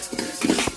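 Rice is roasted and stirred in a pan, with a brief burst of close metallic scraping and clinking from a utensil against the pan, no talk.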